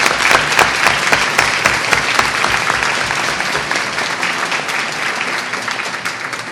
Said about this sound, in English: Let's give Vinay our biggest round of applause